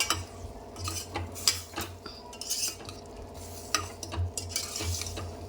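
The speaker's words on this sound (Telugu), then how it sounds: "ఇలా కారపొడి అంతా కలిపేసుకొని ఒక్క నిమిషం ఉంచుకుందామండి" A utensil stirs chili powder into a bottle gourd curry in a pot, producing scraping clinks and knocks in an irregular rhythm over a faint low hum, close up, with no talk.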